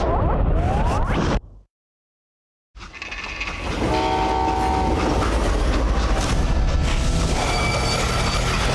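A freight train in a Wild West video game rolls steadily past at close range, with a loud continuous rumble and rhythmic wheel clatter; the sound cuts out briefly, then resumes with a sustained whistle tone.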